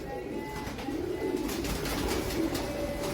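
Teddy pigeons coo softly and steadily over a constant hum of background noise, their low calls rolling on without pause.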